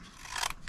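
Scissors snip through card stock up to a score line while making a Christmas truffle treat box, a brief close crisp cut rising in the middle of a short quiet moment.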